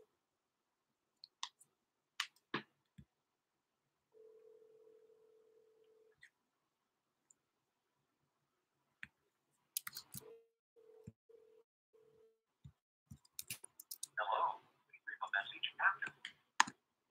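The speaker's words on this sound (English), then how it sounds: "Getting ready to call her right now." An outgoing telephone call: scattered button clicks of dialing, then a steady tone and a repeated ringback pattern, followed by clicks and a short burst of noisy sound at the end, fairly quiet throughout.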